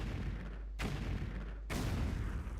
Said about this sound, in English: Something is actually shooting at us.